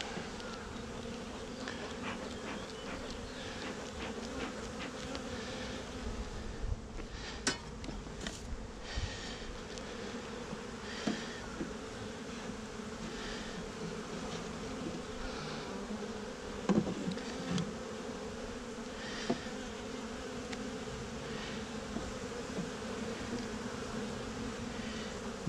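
Many honey bees buzz continuously close by around a hive, a layered droning hum with individual insects passing nearer now and then.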